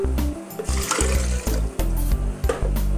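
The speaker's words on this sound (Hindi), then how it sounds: "ये सारा पानी हम इसमें ऐड कर देंगे" Water pouring into a cooking pot while making kari pakora, a steady splashing, trickling stream close by with a few short breaks in the flow.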